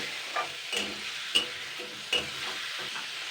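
Chopped tomato, onion and bottle gourd are stirred while they fry in hot oil, giving a steady sizzle marked by several sharp spatula scrapes against the pan.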